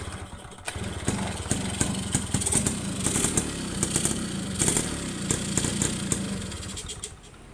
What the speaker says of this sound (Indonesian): Tak nyalain dulu ya, coba biar teman-teman tahu ini motornya kan nyala